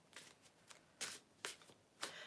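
Cards being shuffled up close and quietly, a few short riffling bursts separated by brief pauses, with no talking.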